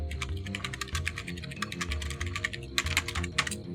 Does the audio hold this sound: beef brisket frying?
no